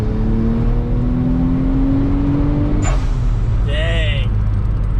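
A junkyard VR6 engine car accelerates hard, its engine note rising steadily under load before a shift, with a chirp as the wheels spin; loud and close, captured from inside the car.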